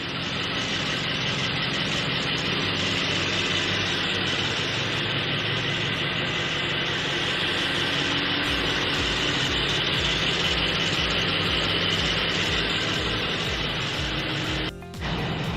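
A 2021 Mercedes-Benz G 63 engine running at a steady idle, a continuous even drone with a broad hiss, unchanging and alone throughout, with a brief dip near the end.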